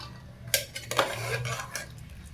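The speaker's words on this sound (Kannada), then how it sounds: "ಇದಕ್ಕೊಂದು ಬೌಲಿಗೆ ಹಾಕ್ಕೊಂಡು ಒಂದು ಸ್ವಲ್ಪ ಸ್ಮ್ಯಾಶ್ ಮಾಡ್ಕೊಳ್ಳೋಣ" Cooked food is mashed in a bowl with a utensil, producing a few soft clinks and scraping, squishing strokes against the dish, close and fairly quiet with no talk.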